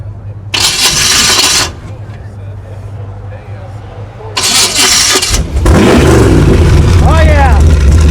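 A 1931 Chevrolet five-window coupe with a 454 engine cranks in two loud bursts, then fires and settles into a deep, rumbling idle with revving, close by, while people talk over it.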